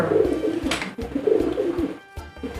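A pigeon coos close up in low, throaty rolling phrases repeated a few times, with a brief soft flutter in between.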